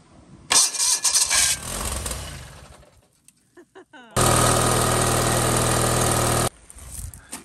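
A Gravely tractor engine cranks in a loud burst, pauses with a few faint clicks, then catches and runs loud and steady for about two seconds before cutting off, with no talk.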